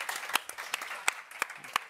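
An audience applauds competition winners with a scattered, moderately distant patter of clapping, a few sharper claps standing out over the soft wash.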